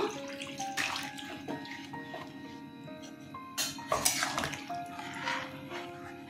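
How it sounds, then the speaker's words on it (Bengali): Water poured into a pan of soybean curry during cooking, a short splashing pour with clinks of a pot or utensil, close and fairly quiet. "এবার জল দিয়ে দেব, জল দিয়ে দিলাম।"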